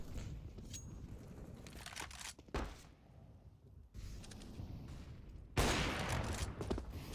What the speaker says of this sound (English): Nice shot from CerQ